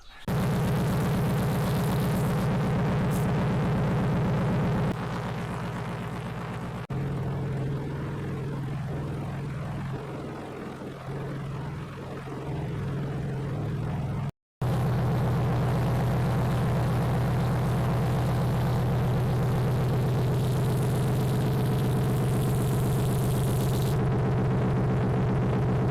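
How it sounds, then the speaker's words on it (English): A Gobege 12 volt off-road air compressor runs steadily as it inflates tires, a loud continuous motor drone with a low hum that is briefly cut off midway and then resumes. "That's the Gobege 12 volt air compressor"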